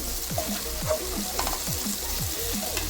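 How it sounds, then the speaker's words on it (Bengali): Steady hot-oil sizzling and crackling of paneer frying in a pan, continuous and close, with occasional soft scraping or stirring. "3-4 মিনিট ধরে পনিরটা ভালো মতো করে ভেজে নিচ্ছি"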